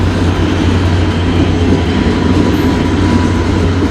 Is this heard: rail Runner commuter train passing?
yes